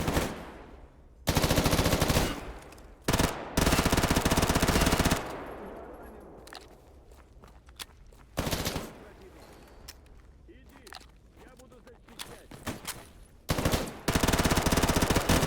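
Full-auto gunfire from mag dumps in the shooter game S.T.A.L.K.E.R. GAMMA: loud sustained bursts of rapid shots, several separate strings broken by quieter gaps with footsteps and ambient game noise.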